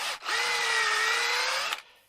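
An 18-volt cordless drill running on an e-bike battery spins up sharply, holds a loud, steady whine for about a second and a half, then stops abruptly, up close with no talk.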